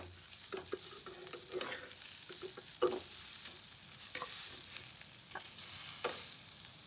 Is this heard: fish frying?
yes